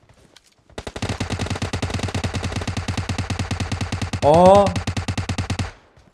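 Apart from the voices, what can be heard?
gunfire from the video game PUBG Mobile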